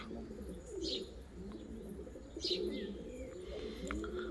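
Pigeons coo softly in repeated low, throaty phrases, with a few faint chirps over a quiet background.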